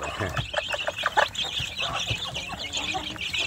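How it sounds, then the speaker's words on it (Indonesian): Young free-range village chicks, partly grown, chirp and cheep in rapid, overlapping peeps nearby, with soft clucking and light background rustle. "untuk anak ayam kampung saya ini sedulur yang sudah mulai besar-besar seperti ini"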